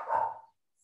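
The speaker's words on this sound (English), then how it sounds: "Sorry, my dog has things to say today." A pet dog indoors gives a single short bark, fairly close and moderately loud, fading quickly into silence with no talk around it.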